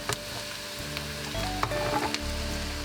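Red cabbage sautéing in a pan for German Rotkohl, a steady crackling sizzle close by with occasional sharp clicks of stirring, no talking.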